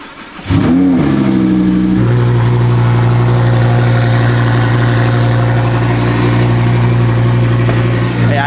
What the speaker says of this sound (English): Let's see what a cold start with twin turbo sounds like when it's this cold out